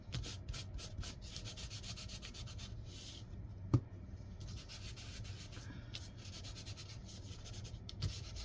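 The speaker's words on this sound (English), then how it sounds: "I could just rub over this and get the highlight, the high parts." Rubbing over an inked page by hand to pull out the raised highlights gives a steady, close dry scuffing across the whole span, with one sharp tap partway through and quiet room hiss behind it.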